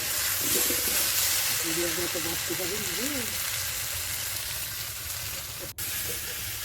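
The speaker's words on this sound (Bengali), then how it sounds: "ভালো করে আলুগুলোকে একটু ভেজে নিতে হবে ওর মধ্যে লবণ আর একটু হলুদ দিয়ে দিতে হবে" Potatoes sizzling in a pan with salt and turmeric for a potato curry, a steady close frying hiss that runs throughout while a voice speaks over it.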